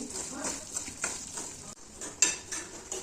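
Semolina roasting in ghee in a pan, stirred with a spoon that scrapes and taps the metal in an uneven rhythm, close and moderately quiet, with a faint background hiss.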